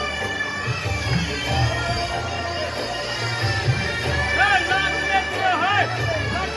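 Dense crowd at an Ashtami and Navami puja, a steady roar of many voices with children shouting and pushing, close and continuous, while someone nearby talks over the din.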